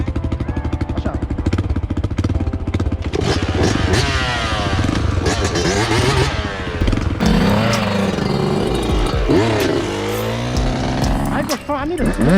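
A 2020 Bashan Storm 250 motorcycle engine runs close by with a steady putter that rises and wavers as the clutch is let out, while people talk over it.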